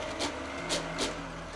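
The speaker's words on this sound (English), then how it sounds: "Grind the soaked chana dal along with the other ingredients to a nice coarse batter." A mixer grinder works soaked chana dal with other ingredients into a coarse vada batter, a steady motor whir with three brief louder surges of grinding noise close by.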